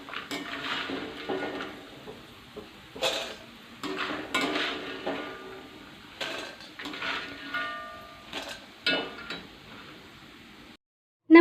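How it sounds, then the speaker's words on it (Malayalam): Crisp fried cassava chips are scooped out of hot coconut oil with a metal ladle, giving bursts of close clinks, scrapes and rattles against the pan with short pauses between scoops, and no talking. "കപ്പ വെളിച്ചെണ്ണയിൽ കിടന്ന് നന്നായി മൂത്തിട്ടുണ്ട്. ഇനി ഇത് നമുക്ക് കോരിയെടുത്ത് വയ്ക്കാം."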